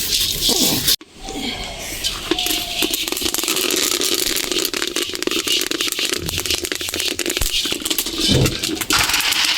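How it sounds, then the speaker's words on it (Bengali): Local peas dry-roasting in a pan for traditional village puffed-rice making, giving a steady dense rattle and scrape of small hard grains that runs almost without pause, with a brief dropout near the start and a few louder knocks later. "এই যে মটরটা এখন ভাজছি দেশি মটর তো"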